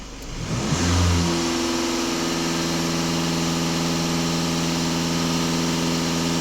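A Volkswagen Passat B8 engine, checked in hot weather, starts up and is held at raised revs: a steady, loud mid-pitched drone that climbs in the first second and then holds even and unbroken.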